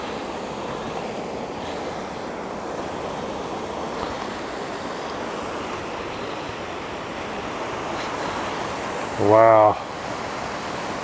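Floodwater rushes steadily over a washed-out road in Barry County near Exeter, Missouri, a loud continuous broadband roar, with one brief voice exclaiming near the end.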